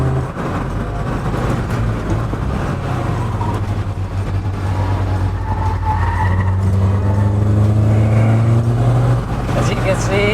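A Peugeot 205 GTI runs flat out on a mountain road in Thailand, its engine droning loud and steady from inside the cabin as revs climb and shift, with a voice talking over it.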